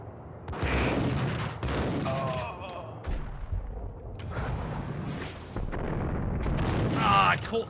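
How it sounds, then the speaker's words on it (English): Gunfire in the PC shooter Max Payne, a few sharp shots and bursts scattered through loud game sound and music-like tones, close and prominent. "They probably heard the gunshots."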